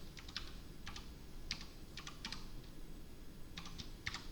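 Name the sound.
typing on a computer keyboard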